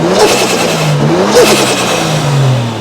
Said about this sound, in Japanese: バックタービン音が皆さん好きらしいので